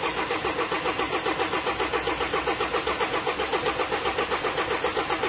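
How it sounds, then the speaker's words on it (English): A Range Rover Evoque engine, fitted with a new timing chain, cranks over steadily under the starter with an even, rapid pulsing rhythm, loud and close, continuing throughout without catching. "crank the engine over"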